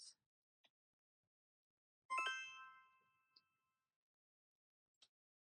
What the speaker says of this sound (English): you're seeing notifications for my game.